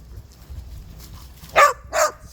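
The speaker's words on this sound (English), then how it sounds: "Stop barking, freaks." Dogs on a farm give two short, loud barks near the end, close by, after a quiet stretch of low background rumble.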